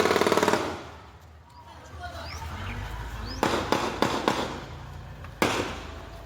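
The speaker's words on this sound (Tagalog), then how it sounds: "huminto ang SUV sa isang kalsada at umalingaw-ngaw ang sunod-sunod na" Rapid bursts of gunfire from an ambush on an SUV stopped on a road, heard in Philippine news footage: several sharp, loud cracks in quick succession with a short cluster and one final shot, over rumbling background noise.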